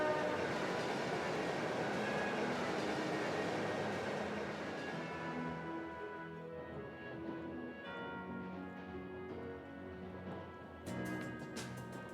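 A train in Trails of Cold Steel rumbles along the rails on a main line, loud and steady at first, then fading to a softer hum with faint clicks near the end.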